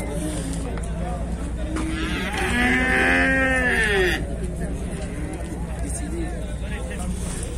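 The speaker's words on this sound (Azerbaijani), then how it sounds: "belə danalar var" Calves at a livestock market in Beylagan let out one loud, long moo lasting a couple of seconds, amid a steady babble of crowd talk and market noise.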